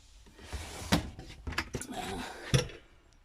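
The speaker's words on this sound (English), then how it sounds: "You've got a cutlery drawer in there." A cutlery drawer in a VW Westfalia Florida camper van opens and shuts, giving a few sharp wooden knocks and sliding rattles at close range, with faint voices in the background.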